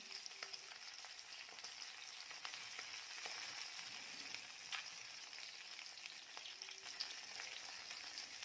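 Capsicum (bell peppers) sizzle quietly in a pan, a soft continuous frying hiss broken by occasional light clicks and ticks from a spatula.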